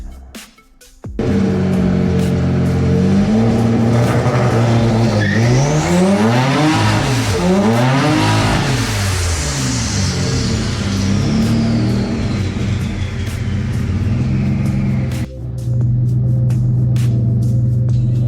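A car engine roars loudly and steadily during a burnout inside a smoky shop, revving up and down in long sweeps, with a brief dip before it surges again.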